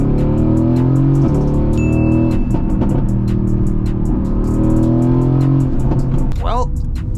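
A 670 hp Mercedes-AMG GT S launches hard in second gear with traction control off, its loud, close engine roaring and climbing steadily throughout, with a voice talking over it.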